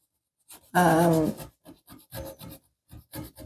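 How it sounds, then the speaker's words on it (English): Heavy grit sandpaper rasps against a shabby chic wooden furniture piece in a series of short, rhythmic scraping strokes, close and fairly loud, with one longer stroke near the start. "So I've got quite a heavy grit sandpaper here."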